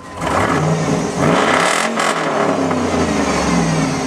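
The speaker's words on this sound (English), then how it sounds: "We'll give it a little rev up." The 6.0L LQ4 V8 of a 2003 Chevy Silverado LS pickup idles, then is revved up hard a couple of times, the roar rising and falling close by before settling into a steady rumble.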